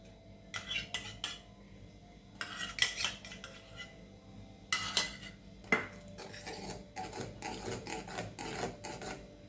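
A milk powder and milk paste for coconut barfi is mixed in a pan, with bursts of spoon scraping and clinking against metal, faint and close, separated by short pauses and no speech.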